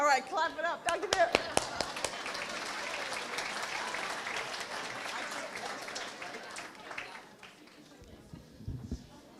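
Audience applause at a breast cancer summit welcoming a speaker, a dense burst of clapping that starts loud, holds steady for several seconds and then thins out toward the end, with some voices underneath.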